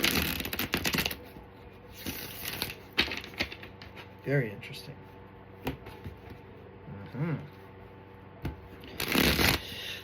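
Tarot cards shuffled in quick riffling bursts, with a brief spoken remark partway through and some soft handling noises in between.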